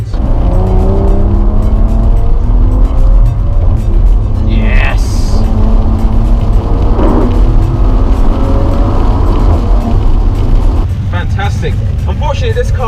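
A Maserati Levante S Q4 GranLusso SUV engine drones steadily while driving, with rising and falling gear-change tones, loud and close throughout and easing slightly near the end.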